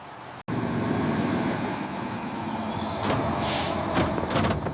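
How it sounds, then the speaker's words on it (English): A city bus pulls up at a street bus stop, its engine rumbling low and steady, with a hiss of air brakes and a few sharp clunks and squeals as it comes to rest. "The bus is here."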